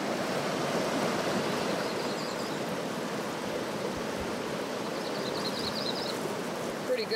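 Creek water flows steadily throughout during a gold panning outing, a continuous broadband rush with no pauses and only faint higher trickling detail.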